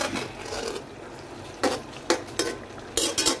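Vegetable chorchori frying in plenty of oil is stirred with a utensil, giving a steady sizzle and several sharp scraping strokes against the pan near the end.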